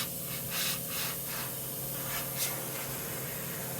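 Airbrush spraying paint for a zenithal priming demo, a soft steady hiss with several short bursts and pulses, close and fairly quiet, with no voices.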